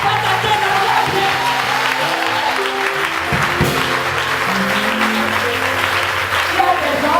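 A church congregation applauding during a worship service: dense, loud, sustained clapping from a crowd that fills the whole stretch, with voices and music mixed underneath.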